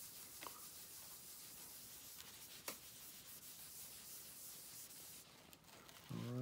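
A cloth rag rubs polish into a guitar's clear coat, giving a soft, steady, faint scrubbing hiss with a few light taps, and a brief voice comes in at the end.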